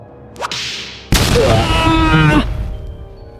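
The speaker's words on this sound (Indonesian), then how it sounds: "cambuk berduri melesat dari salah satu pengawal tengkorak" A spiked whip lashing out in a dark fantasy battle: a quick whooshing crack at the start, then a loud, sustained ripping lash with a metallic ringing tail that cuts off abruptly.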